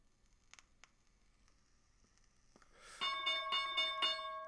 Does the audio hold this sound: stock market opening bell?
yes